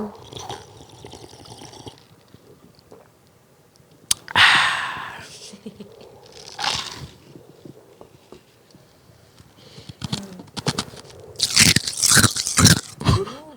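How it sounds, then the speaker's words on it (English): Loud crunching bursts come in clusters with quiet gaps between, close up, like ice being bitten and chewed, with no talking. "Crunchy ice."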